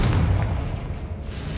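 Confringo fire spell blast in the Hogwarts Legacy video game, a deep booming burst that rumbles low and fades over about a second and a half.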